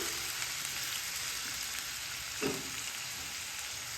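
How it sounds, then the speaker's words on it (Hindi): Onions browning in a pan over a low gas flame give a steady, soft sizzle throughout, with one brief clink partway through and no voices. "उधर मैंने प्याज ब्राउन करने रखा है हल्का गैस खोल के"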